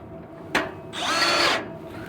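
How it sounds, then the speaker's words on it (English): A power drill runs a screw into an old frame, with a sharp click, then a short whirring burst of about half a second that stops cleanly, close and loud against a quiet room. "You're just running screws."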